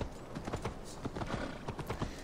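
Horse hooves clip-clop steadily in Assassin's Creed Valhalla, a quiet, even rhythm of soft hoofbeats under faint game ambience.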